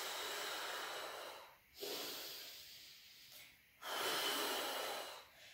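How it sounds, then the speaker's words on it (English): Slow deep breaths taken during a seated upper-body workout, long hissy inhales and exhales in two or three drawn-out cycles with brief pauses between them, close and soft, with no talk. "nice and long deep breaths"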